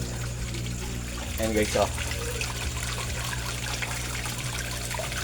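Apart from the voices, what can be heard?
air pump running in a koi fish pond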